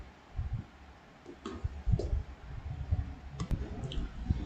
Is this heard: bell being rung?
no